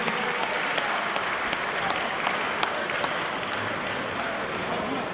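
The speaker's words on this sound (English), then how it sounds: "a big round of applause for our two fighters" Steady applause from a large fight-night crowd greeting two fighters, dense and continuous clapping filling the space with no pauses, some cheering mixed faintly beneath.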